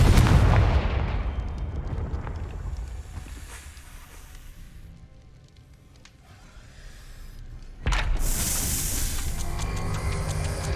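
A Confringo blasting spell from the video game Hogwarts Legacy goes off in a loud, booming explosion, followed by a fading rumble and then a sudden bright, crackling burst of debris near the end.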